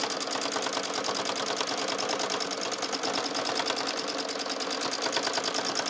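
A sewing machine doing free-motion quilting of petal shapes, running in a continuous fast, even stitching rattle that stays close and steady from start to finish.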